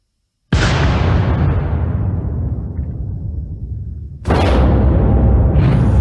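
Two loud gunshot-like blasts from a Browning High Power pistol, the first with a long decaying echo lasting several seconds, the second following about four seconds later.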